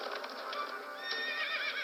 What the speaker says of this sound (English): the sound of a distant horse